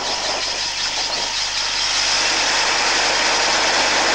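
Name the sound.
vehicle engine running with revs raised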